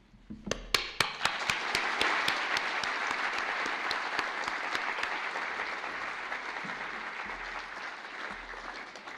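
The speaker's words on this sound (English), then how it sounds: "while your applauding hands are in good action at this point in the ceremony" A few sharp, separate claps quickly swell into steady applause from a sizeable audience at a winter graduation ceremony, continuing evenly at moderate volume.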